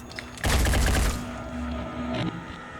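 Gunfire rattles at an alien in Phoenix Point: Terror from the Void, a short, loud burst of rapid shots lasting about half a second, then a ringing tail and a second, quieter stretch of fire.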